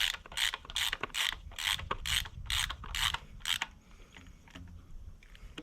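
Ratchet wrench tightening the belt tensioner on a high-compression Honda CRX engine, eight or nine crisp rhythmic clicking bursts close up, followed by quieter fumbling sounds.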